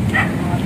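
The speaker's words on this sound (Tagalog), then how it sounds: "May aso." A dog barks amid a noisy outdoor scene near the sea, with people talking nearby and a steady low rumble underneath.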